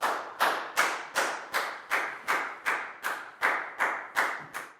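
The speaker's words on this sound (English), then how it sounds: "a big round of applause for Prau, please, guys" Twelve evenly spaced hand claps ring out one after another in a steady rhythm in a classroom, each sharp and moderately loud with a short decay, nothing else heard.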